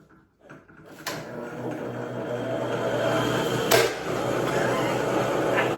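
A belt grinder runs at high speed in a knifemaking shop, a steady whirring drone with a couple of sharp knocks, moderately close and continuous after a brief quiet start.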